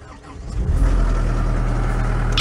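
A vehicle engine at a fencing job throttles up from idle, a short loud rising rumble that holds steady and close.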